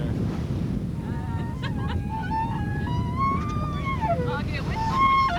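A person imitates a whale mating call through tubing aboard a sailing vessel at sea, a wavering tonal wail with rising and falling pitch over steady wind and water noise.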